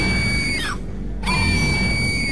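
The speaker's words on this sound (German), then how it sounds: "hör auf zu kreischen" A character screams in the video game Silent Hill Shattered Memories: a loud, sustained shriek that breaks off briefly at mid-clip and then resumes, with no talk over it.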